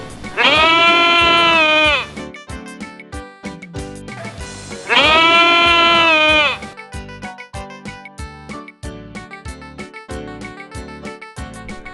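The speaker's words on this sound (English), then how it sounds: "There were goats that used to graze grass on the bank of a river." Two long, wavering goat bleats ring out loudly, each about two seconds, followed by a steady plucked musical rhythm throughout.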